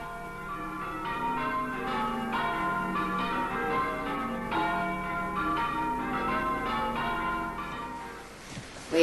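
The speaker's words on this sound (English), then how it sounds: "listening to a recording of the bells" Prescot church bells ringing in a recording, a continuous, resonant peal of overlapping bell strikes at a steady rhythm, loud and unaccompanied by speech, with a brief rustle at the end.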